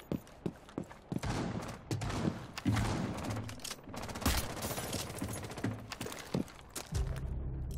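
Rapid bursts of gunfire in Rainbow Six Siege crackle in quick succession at moderate volume, with sharp single shots and short automatic volleys and no speech in between.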